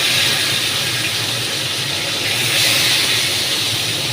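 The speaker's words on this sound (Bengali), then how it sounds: "বাটা মাছটা আমি তেলে ভেজে নিলাম।" Bata fish frying in hot oil gives a steady, close sizzling hiss that runs unbroken and evenly loud for the whole stretch, with no voices.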